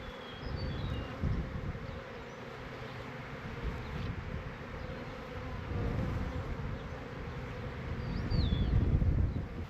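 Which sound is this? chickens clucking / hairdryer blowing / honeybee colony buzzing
honeybee colony buzzing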